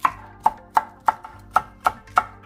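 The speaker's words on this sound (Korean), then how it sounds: "청양고추 5개를 반으로 갈라 썰어주세요." Seven sharp knife chops slice Cheongyang chili peppers on a cutting board at a steady, even rhythm, close and crisp with nothing else heard.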